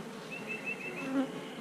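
Honey bees buzz around a hive in a bee yard, a close, steady swarming drone with individual bees whining past, no voices.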